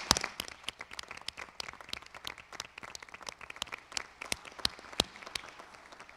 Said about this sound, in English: could we just give them one more round of applause